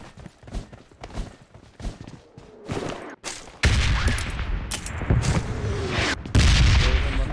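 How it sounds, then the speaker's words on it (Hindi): A bomb explodes in a video game with loud, heavy booms that follow scattered, sharper bursts of gunfire and blasts, some rumbling on after each hit. "भाई बम फट रहा है"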